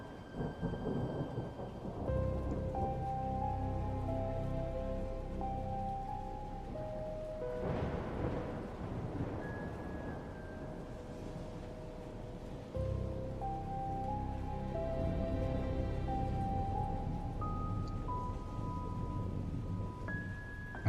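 Steady rain with rolling thunder on a stormy night, a continuous dense wash, with sustained tonal music layered over it throughout and no talking.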